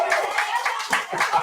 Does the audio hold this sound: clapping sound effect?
yes